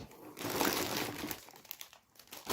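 Crinkly plastic snack bags of Lulu Puffs rustle and crackle steadily at close range as they are pulled out of a cardboard box, with no talking.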